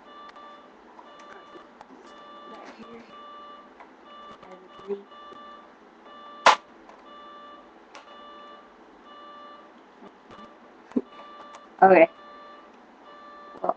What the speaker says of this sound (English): I know you can probably hear that alarm in the background, but that's just my mom's alarm clock.